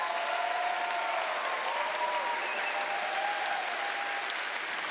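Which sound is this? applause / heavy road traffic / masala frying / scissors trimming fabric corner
applause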